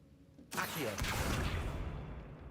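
The Accio summoning spell in Hogwarts Legacy fires with a sudden bright whoosh after a quiet moment, followed by a sustained swirling rush that slowly fades over about two seconds.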